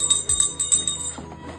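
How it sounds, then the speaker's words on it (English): A small handheld bell rung at a Santa visit, several bright metallic jingles in quick succession, close and clear, then fading as the ringing slows. "You like my bell?"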